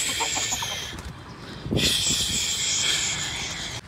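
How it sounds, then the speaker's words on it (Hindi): Chickens cluck and squawk close by in a yard, with short, busy bursts of hen calls. A louder flurry comes near the middle over a steady background hiss. "मुर्गियों ने हमला कर दिया।"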